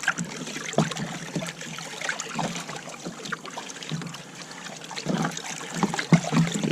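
Mineral wood treatment being stirred into cold water with a stick, a continuous close sloshing and trickling with small splashes that swell near the end.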